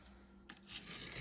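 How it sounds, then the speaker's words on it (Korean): A short rough scratching, a ballpoint pen tip dragged across hard gritty tile grout, close and rasping, growing louder toward the end. "볼펜들을 이렇게 긁어볼게요"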